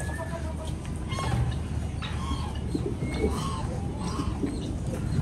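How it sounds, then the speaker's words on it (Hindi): A newly hatched chick chirps in a rainy mini zoo, giving repeated thin high peeps amid a constant background hiss with low fowl-like murmurs. "यार ये चू चू की आवाज़ आ रही है"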